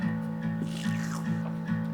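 Strummed acoustic guitar chugs in a tight repeating pattern, muted scratchy strokes pulsing regularly over a sustained low tone in a pop song chorus.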